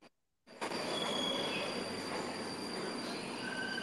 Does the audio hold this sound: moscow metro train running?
yes